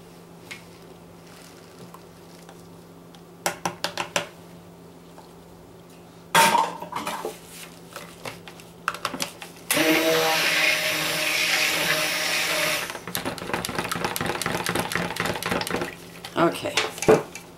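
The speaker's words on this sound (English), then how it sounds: "So mixing it in with the clay." Clay is stirred into a cold process soap mixture, giving scattered clinks and scrapes against the container and a steady whirring burst midway, all fairly close and moderately loud.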